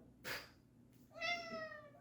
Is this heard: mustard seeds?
no